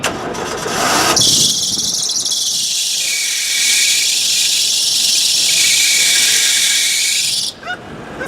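A 2003 Kia Spectra engine cranks and starts with a loud, sustained high-pitched belt squeal that holds for about six seconds over the idle, then cuts off abruptly.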